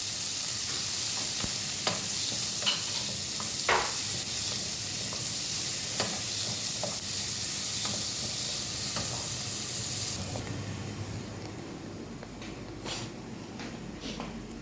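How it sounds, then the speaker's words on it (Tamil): Onions sautéing in a pan for a drumstick-leaf tamarind curry: a steady, close sizzle with scattered stirring scrapes throughout, easing slightly softer toward the end, with no talking. "இப்போ வெங்காயத்தை போட்டால் நல்லா வதக்கணும்"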